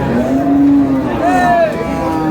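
A cow with its calf at a village cattle market gives a long low moo followed by a second rising call, loud and close over busy crowd noise.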